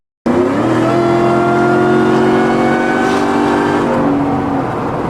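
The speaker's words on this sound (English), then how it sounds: "this supercharger is gonna whine like nothing else" A supercharged car accelerates hard with a loud, steady whine that climbs in pitch over the engine roar, running close and continuous for the whole stretch.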